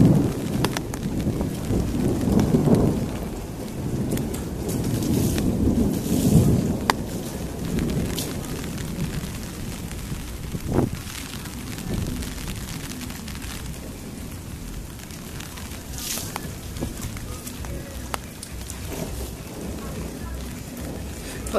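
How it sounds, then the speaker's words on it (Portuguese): Heavy rain falls steadily outdoors with rumbling thunder, a dense wash of noise with low booms, while people talk intermittently and birds call faintly. "Olha o Ronaldo lavando o carro com a água da chuva."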